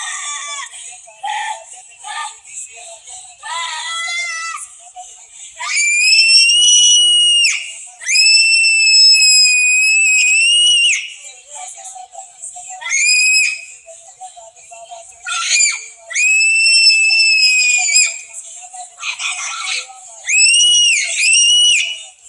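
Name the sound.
girl screaming while being held down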